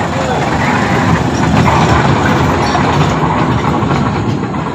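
A Rajdhani Express passenger train runs close by, a loud, steady roar of wheels and carriages with continuous rumble and clatter that holds for the whole stretch.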